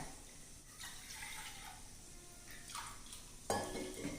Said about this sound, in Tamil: இப்போ எல்லாத்தையும் ஒன்றா கலந்து விட்டுட்டோம்.